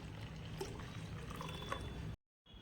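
Water poured into blended curd to make buttermilk, a soft continuous trickle and splash that stops abruptly near the end.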